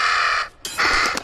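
In the horror video game Little Hope, a raven gives two loud, harsh caws separated by a short gap, close and prominent, with no talk over them.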